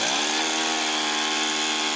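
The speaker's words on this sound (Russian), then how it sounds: "Звуки работающих бензопил заставили экологов-активистов вновь выйти на пикет" Petrol chainsaws cutting trees during sanitary logging of a forest in Novosibirsk give a loud, steady, high-pitched engine whine. It holds nearly constant and close throughout, with no talk.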